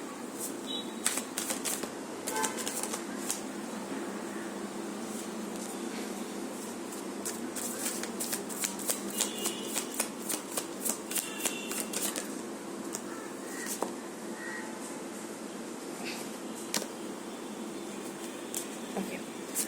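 Tarot cards being shuffled, riffled and tapped in quick, crisp bursts that keep going steadily, close and fairly quiet over a low hum of air conditioning.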